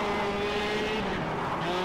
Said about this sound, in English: I'm drifting around these corners like a badass